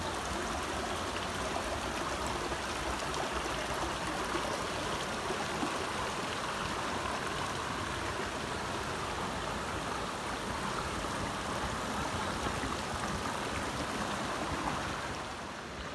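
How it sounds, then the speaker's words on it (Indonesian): A river stream runs through forest on the way down to a waterfall near Lhokseumawe, a steady, full rushing and babbling of water that holds constant and close throughout; no talking. "Sudah terdengar suara aliran sungai."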